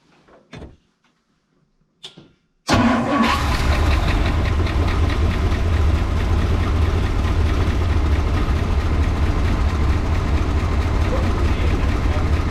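An Edsel car engine cranks and catches after a few quiet knocks, then settles into a loud, steady idle that runs on without a break.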